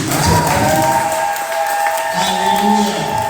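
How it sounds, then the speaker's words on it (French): A church congregation at a praise and worship service cheers and acclaims, a continuous wash of crowd voices and clapping under sustained tonal sound, fairly loud and close. "Acclame pour lui."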